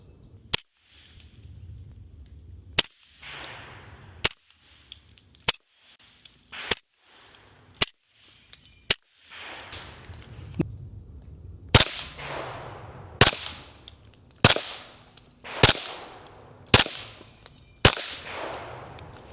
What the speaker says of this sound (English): Even when it's supersonic rounds, it seems like you're shooting suppressed.